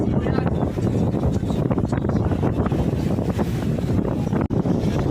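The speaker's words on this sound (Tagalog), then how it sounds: "Malakas yung hangin." Strong wind roars across a boat at sea in rough waves, a loud constant buffeting rush filling the whole few seconds.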